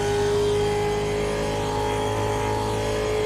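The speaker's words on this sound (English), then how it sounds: "This is what race cars should sound like. Proper big American rumble." A big American race car engine roars loudly and continuously at close range, a steady heavy rumble with a sustained high-revving tone and no voices.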